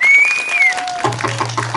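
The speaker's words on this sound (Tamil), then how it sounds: "என் சிங்கங்கள்லாம் என் தம்பியெல்லாம் கைதட்டுறாங்க பார்த்தீங்களா" An audience claps at a lively public gathering, a scattered patter of hands mixed with sharp whistles and a low steady hum.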